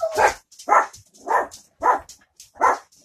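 Dogs bark at a person arriving home from work, five loud, close, evenly spaced barks in a steady rhythm with no talk.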